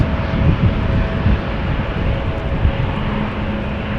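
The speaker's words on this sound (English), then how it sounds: "We have a KLM Embraer 190 coming this way" A KLM Embraer 190 jet at Amsterdam Schiphol Airport gives a steady, moderately loud engine rumble with a faint whine, holding level throughout without any voices.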